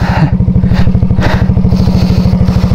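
Motorcycle engine running steadily close by on a trail toward waterfalls, a loud, even chugging throb that holds without a break and has no talk over it.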